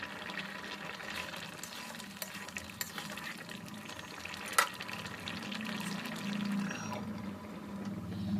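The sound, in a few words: sautéing fried potato with chilli and turmeric powder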